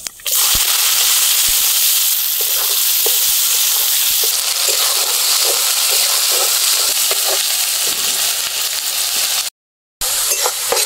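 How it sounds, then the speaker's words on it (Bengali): Chopped onion with whole cumin seeds hits hot oil in a pan, producing a loud, continuous sizzle with sharp crackling pops scattered throughout, broken once by a short silent gap near the end. "গোটা জিরে ফোড়ন দিয়ে দেবো। কুচনো পেঁয়াজ দিয়ে দিলাম"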